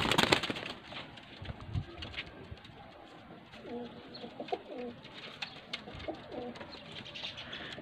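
Pigeons coo repeatedly at close range, soft throaty calls rising over a busy loft background of rustling and faint chirps, with a breeder's pigeons for sale in Faisalabad.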